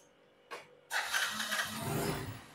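A used motorcycle's electric self-starter gives a short whirr, pauses, then the engine catches and runs at a loud, steady idle close by.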